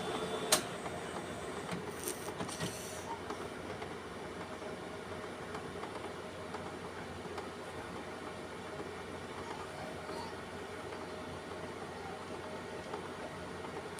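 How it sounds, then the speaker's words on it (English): A Ricoh Aficio SP C430DN color laser printer runs a print job with a steady mechanical whir and rumble throughout, a brief click near the start, no talking. "It takes time, but it's gonna print."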